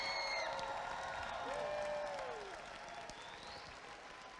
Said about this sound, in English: I want to hear a huge round of applause